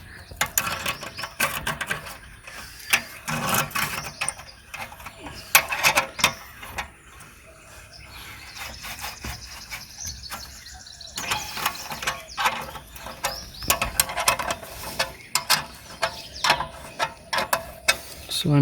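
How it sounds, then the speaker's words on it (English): Ratchet wrench clicking in quick bursts while tightening an exhaust nut on a Kawasaki Ninja ZX-10R during an Austin Racing exhaust install, close and fairly quiet, pausing between strokes. "So I will be again tightening this nut over here."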